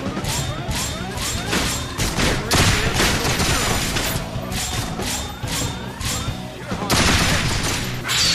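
Three outcast enemies firing shotguns in the video game Resonance of Fate, a dense, loud stream of overlapping blasts and crashing impacts with brief lulls, under busy game effects.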